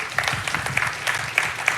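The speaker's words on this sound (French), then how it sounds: "On peut vous applaudir." Audience applause at an energy conference, a steady wash of many hands clapping at moderate loudness for under two seconds, with no talking over it.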